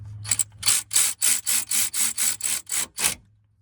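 A screwdriver or nut runner works a fastener loose on the secondary air system of a 2007 Cadillac DTS, giving about ten quick, even scraping strokes close by, with no talking, before stopping.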